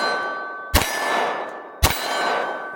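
Glock 19 shots striking a steel target, two sharp metallic clangs about a second apart, each ringing out with a sustained tone over faint background noise.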